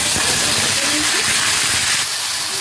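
A large onion sizzles in hot oil with whole garam masala in a wok, a loud, continuous hiss and crackle with no talk.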